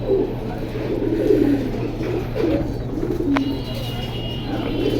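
Pigeons at a market stall coo in low, repeated murmurs against a steady background hum, with faint chatter from people nearby.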